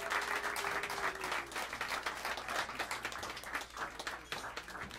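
A crowd at a jazz club in New York City gives warm, sustained applause to welcome the band to the stage, with crisp clapping throughout and a brief voice at the start.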